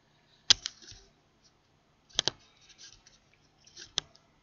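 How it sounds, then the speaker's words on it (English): Sharp computer mouse clicks at a desk during bookkeeping software work, arriving in close pairs like double clicks, three clusters spaced a couple of seconds apart, crisp and near against near silence. "if I double click here"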